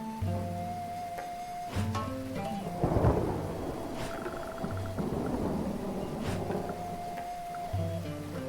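Rain and rumbling thunder from the Dead in Vinland video game, a steady wash of rainfall with a loud thunder crack near the middle, layered under tonal game music with no voices.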